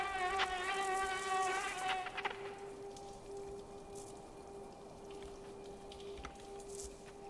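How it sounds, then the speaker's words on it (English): A giant mosquito creature in the video game Limbo buzzes loudly and steadily with a harmonic whine that eases slightly after the first couple of seconds and continues throughout, alone without talk. "You're like a giant mosquito."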